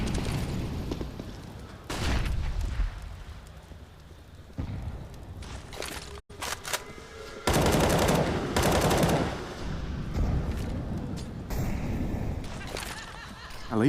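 Pistol gunfire from Counter-Strike: Global Offensive on the Anubis map during a G2 versus Team Liquid semi-final, with bursts of rapid shots and clattering between quieter stretches, under a caster's commentary.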